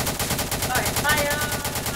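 Battle cruiser guns fire in Roblox Harbour Havoc as a rapid, rhythmic string of shots, the pulses evenly spaced and moderately loud across the whole stretch, with faint tonal game sounds mixed in.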